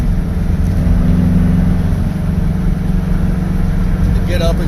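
A Baja car fitted with Weber IDF 48 carburetors cruises a little under 3,000 RPM, its steady engine drone and road noise running continuously at close range while someone talks over it.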